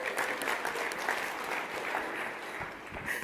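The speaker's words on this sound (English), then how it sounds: "By the way, round of applause." Audience applause for a real estate coaching talk fills the moment, a dense steady patter of clapping from a moderate crowd, slightly distant and fairly soft, without talk.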